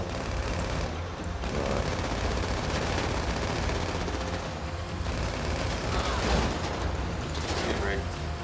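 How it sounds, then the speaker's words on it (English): Rapid SMG fire from a GTA V Online heist, dense and continuous across the whole stretch, mixed with game noise while a voice speaks briefly over it. "I'll just use the SMG, man."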